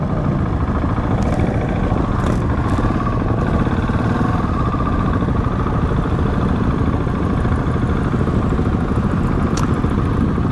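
A motorcycle engine running throughout, with a steady, dense, low rumble and chugging that stays constant and close, with faint clatter above it, on a ride for Remembrance Sunday.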